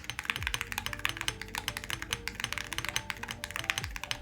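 Rapid, crisp typing on a Holy60 keyboard fitted with gold Awekeys metal keycaps, dense clacky keystrokes close up and fairly loud, with a couple of heavier spacebar-like thocks.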